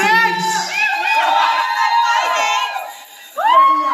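A crowd at a film event for the movie with Jerald Napoles and Pepe Herrera cheers and shouts loudly and steadily, with high whoops and voices throughout, dipping briefly before a fresh swell of yelling near the end.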